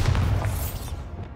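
Bombarda blasting spell in Hogwarts Legacy, a short, loud, low thudding boom that fills the clip and tails off quickly.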